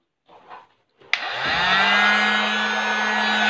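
A handheld electric heat gun clicks on and then roars with a loud, steady whooshing fan blast and low motor hum that holds constant, preceded by brief faint handling noise.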